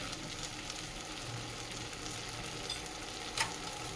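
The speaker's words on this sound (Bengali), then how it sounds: "এর মধ্যেই এখন দিয়ে দেবো একটু অল্প অল্প মশলা। ধনে গুঁড়ো 1/2 চামচ, জিরে গুঁড়ো 1/2 চামচ, 1/2 চামচ হলুদ।" Ground coriander, cumin and turmeric fry in a pan with a faint, steady crackling sizzle, and a soft tonal hum sits underneath.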